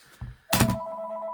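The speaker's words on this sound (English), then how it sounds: "Let me just turn off that ringer." An indoor telephone ringer sounds after a soft thump: a sharp metallic ring burst followed by a sustained steady electronic tone lingering in the room.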